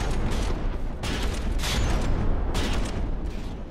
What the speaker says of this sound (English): You can see these shells go in here, and then they just kind of detonate in the open